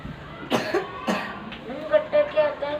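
A child coughs in a tuition class, two sharp separate coughs close by, then a voice speaking right after.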